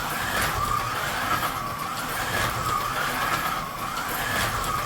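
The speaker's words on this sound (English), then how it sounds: "I'll just see if I can get a lap record, another lap record out of this Joysway 6-volt car." A Joysway 6-volt 1/43 slot car laps a Carrera GO track, its electric motor whining in repeating rises and falls with each pass around the circuit, fairly close and steady.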